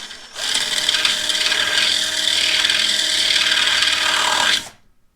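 Drill opening up holes in a Miata fender brace, one continuous grinding, rasping bore lasting several seconds before cutting off.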